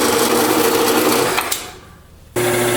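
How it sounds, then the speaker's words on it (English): An Ellis bandsaw cuts bar stock to rough length with a steady, buzzing mechanical whir that fades as the cut finishes, then the running machine hum resumes briefly. "It's in the Ellis bandsaw here, cutting it to rough length."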